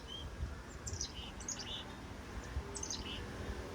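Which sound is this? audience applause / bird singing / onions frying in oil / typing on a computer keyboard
bird singing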